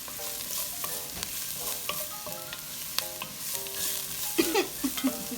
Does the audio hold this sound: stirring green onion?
yes